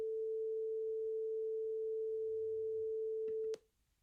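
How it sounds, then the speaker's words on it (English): A steady 442 hertz pure sine tone played in a physics lecture on waves, holding clean and constant for about three and a half seconds before cutting off abruptly into near silence. "this is how a 442 Hertz sound like"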